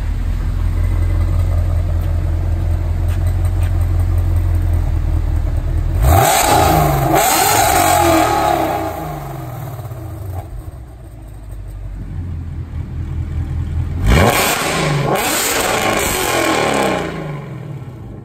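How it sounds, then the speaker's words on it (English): A 2016 Ford Mustang with a Roush Phase 2 supercharger and active exhaust, idling with a deep rumble and then revving hard twice, each loud rising roar falling back to idle, close up with no talking. "I'll rev it up a couple times, I'll switch it."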